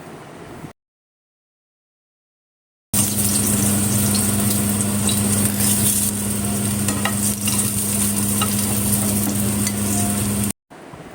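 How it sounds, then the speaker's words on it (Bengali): Shing fish (stinging catfish) fry in oil in a pan, a dense, steady sizzle with a low hum behind it, starting after a stretch of silence and running evenly to the end. "আরও 5 মিনিট এভাবে ভাজার পর এখন আমি মাছগুলো তুলে নিব।"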